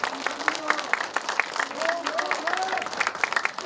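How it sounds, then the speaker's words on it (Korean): Audience applause with scattered voices rising over it closes a talk concert in Pohang, a steady spread of claps running throughout at moderate loudness. "우리 수고해주신 허명한 박사님께 감사의 인사를 드리면서 박수로 마감을 하겠습니다"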